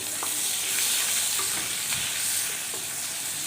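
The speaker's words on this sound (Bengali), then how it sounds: "এবার পেঁয়াজটাকে আমি ভালো করে ভেজে নিচ্ছি যতক্ষণ না হালকা ব্রাউন কালার হচ্ছে।" Chopped onion frying in oil with a dried chilli and a bay leaf, giving a loud, steady, close hiss and crackle that holds throughout, with a few faint clinks of stirring.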